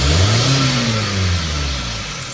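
A 1993 Hyundai Sonata DOHC 16-valve engine, with intake air temperature sensor and EGR fault codes, revs up close as the accelerator is pressed, its deep rising drone holding loud and then easing slightly.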